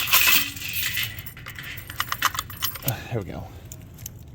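Keys jangling on an overloaded keyring hanging from a 1982 Yamaha XJ1100 motorcycle, a bright metallic clatter in bursts up close, with someone speaking briefly near the end.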